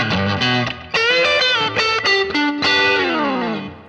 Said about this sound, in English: Here are my top 5 tones from the Boss ME-90.